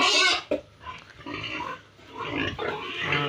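Several farm pigs grunt and squeal in a loud, busy run of snorts that lasts the whole stretch, with no talk over them.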